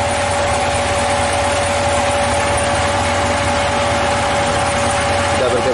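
A car engine idles with the air conditioning on, giving a steady low hum and vibration with a faint constant whine, unchanging for a few seconds, close and alone without talk.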